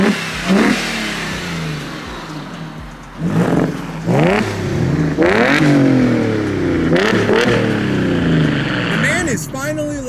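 Ford Mustang GT with a new exhaust pipe revving hard, several loud rising and falling bursts one after another, with people talking between the revs.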